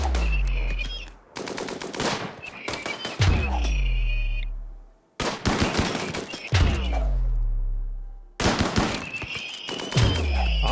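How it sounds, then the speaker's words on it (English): Bursts of rapid gunfire and light machine gun fire in the RimWorld video game, several loud volleys separated by brief pauses, with sharp reports and echoing tails. "That means we've got good shooters and good guns. Dole's LMG took down this one."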